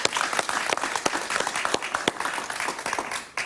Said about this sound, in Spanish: Un aplauso para María Corina.